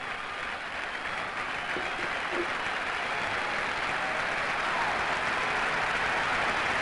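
Baseball crowd at a 1978 playoff game between the Royals and Yankees applauding before a pitch, a broad, distant wash of clapping and crowd noise that swells gradually under a radio broadcast.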